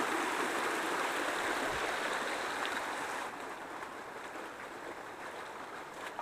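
Water rushes steadily in a flowing stream, a continuous broad hiss that softens slightly partway through, with no voices.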